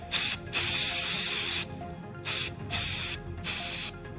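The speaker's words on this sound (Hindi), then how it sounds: "कोई यहां स्प्रे कर दो" Mosquito spray from an aerosol can hisses in four separate bursts, a long one near the start and then shorter ones, loud and close in an otherwise quiet room with no talk.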